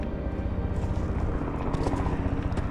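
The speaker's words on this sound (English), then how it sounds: "And the helicopter." A helicopter flying overhead outdoors on a hillside walk with a dog, a steady rotor thrum and engine drone, fairly loud and continuous throughout without speech.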